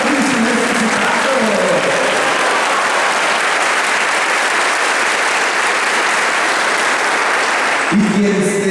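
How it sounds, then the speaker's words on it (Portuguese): A church congregation at an Easter Sunday Mass gives a loud, sustained round of applause filling the space, and it stops abruptly near the end as a voice and music come back in. "Uma salva de palmas."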